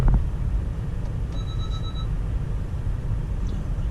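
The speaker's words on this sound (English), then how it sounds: "All it did was flash and give me an audio beep" A single electronic warning beep from a Honda Civic Type R, keys out the window, rings out for about a second over a steady low engine rumble in neutral, with no one speaking.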